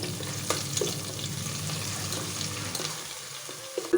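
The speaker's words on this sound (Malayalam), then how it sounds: "അത് നമുക്ക് എണ്ണയിലേക്ക് ഇട്ട് കൊടുക്കാം അതിൻ്റെ കൂടെ കുറച്ച് കറിവേപ്പിലയും നല്ലതുപോലെ ഒന്ന് മൂത്ത് വരണം" Crushed onion, chili and garlic with curry leaves frying in hot oil for a Kerala tapioca stir-fry, a steady close sizzle with faint stirring that thins toward the end, no voices.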